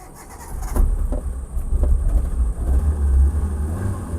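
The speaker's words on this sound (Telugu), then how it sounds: "ఒకసారి ఇంజిన్ స్టార్ట్ చేసి చూపిస్తాను చూడండి" A Hyundai Santro car engine turns over with a brief cranking burst, then settles into a steady low rumble close by.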